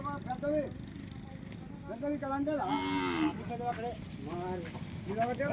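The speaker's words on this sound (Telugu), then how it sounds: "మంచి ఒంగోలు జాతి ఆవులే అండి అన్నీ" Ongole breed cows low repeatedly in long, drawn-out moos as the herd comes in at evening, the calls spread across the clip over a steady background murmur.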